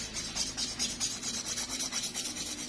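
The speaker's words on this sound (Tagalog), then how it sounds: "in-nailfile natin mga kalugit para gumanda ito." Nail file rasping along the edges of an ingrown toenail, a steady scratchy rubbing in quick repeated strokes, close and fairly quiet with no talking.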